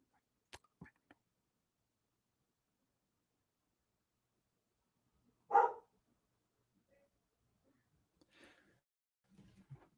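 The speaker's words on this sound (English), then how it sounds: "Could you make the dog be quiet, please?" A dog gives a single loud bark in an otherwise quiet indoor room, with a few faint clicks and small noises around it and no talk.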